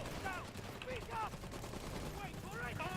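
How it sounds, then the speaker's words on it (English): Heavy machine gun fire rattles in a video-game battle, quick repeated bursts sitting fairly low in the mix under faint background voices and game music. "You can see here this heavy machine gun team"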